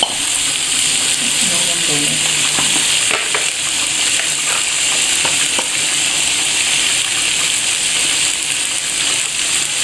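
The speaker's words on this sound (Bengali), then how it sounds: "ভেন্ডিগুলো দিয়ে দিচ্ছে এখন ভালোভাবে নেড়ে দিবে" Okra stir-fried in a hot pan, a steady loud sizzle throughout with occasional scraping stirs, and faint voices in the background.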